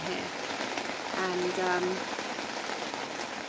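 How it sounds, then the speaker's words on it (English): Heavy rain falling outside on a grim day, a steady dense hiss of drops on surfaces that fills the whole stretch, with a brief voice over it. "the weather's really bad. It's raining and it's grim"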